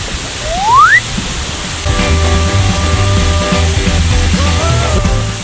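An artificial waterfall pours over decorative rocks beside the artificial sea pool at Siam Park in Bangkok, a loud, steady, close rush of water with a brief rising whistle and some tonal sounds over it.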